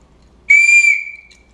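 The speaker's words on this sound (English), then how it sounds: "very loud whistle, it's aluminum with some electrical tape on it" A loud aluminum whistle wrapped in electrical tape gives one sharp, piercing blast of about half a second that fades quickly, with no talk around it.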